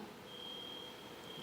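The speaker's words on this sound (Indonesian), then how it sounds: "Ini bunyi alarm atau apa ya?" A steady electronic alarm tone sounds throughout a church prayer service, a thin continuous beep holding level above a quiet room murmur.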